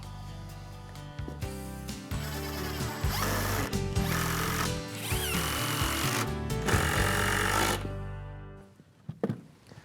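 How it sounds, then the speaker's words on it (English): Power driver running screws into a mobile lumber cart during shop construction, several loud whirring bursts separated by short pauses, ending with a few clicks and knocks. "At this point, I can start driving the screws."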